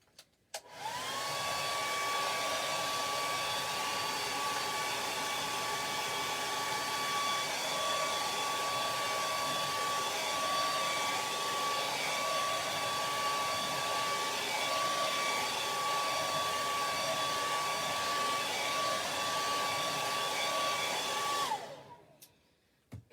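A hair dryer blows steadily and loudly to dry chalk paste on a handmade winter decoration, a constant whirring drone that runs without a break for about twenty seconds and then cuts off, with no talking.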